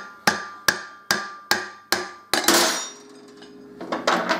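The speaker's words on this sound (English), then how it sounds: "tap the axle out" A hammer taps the 3/4 axle out of an alloy wheel on a Harley-Davidson Deuce, six crisp ringing metal strikes at a steady pace, then a heavier clanging knock and rattling clatter as the axle shifts.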